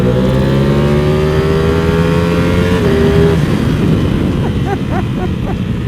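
A Ducati Panigale V4 SP with carbon bodywork revs hard, its engine note climbing in pitch for a few seconds, then dropping into a loud, rough idle with sharp blips, very close and continuous.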